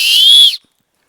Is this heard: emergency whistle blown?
yes